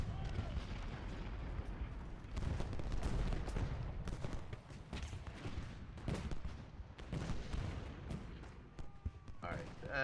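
Musket volleys crack and rumble across a Gettysburg battlefield in the strategy game Ultimate General Gettysburg. The heavy booming fire is fairly quiet and rolls on almost continuously, as if from a distance.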